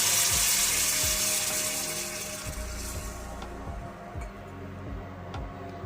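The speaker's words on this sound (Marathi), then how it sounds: "तेल सुटल्याच्या नंतर त्यात आपण आपल्या आवश्यकतेनुसार पाणी घालू" Water pours from a glass into a pan of cooking chickpea-leaf vegetable, a steady gushing splash that thins out and fades to quiet simmering, close and alone without talk.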